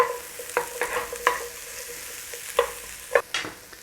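Garlic and onions frying in a pan for Chinese-style beef and tomatoes, stirred with a utensil that scrapes and knocks against the pan in scattered clicks over a soft, steady sizzle, no voices.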